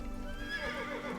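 A horse in the Assassin's Creed video game lets out a whinny, a wavering, rising-and-falling neigh heard fairly close over a steady game background with faint hoof clatter.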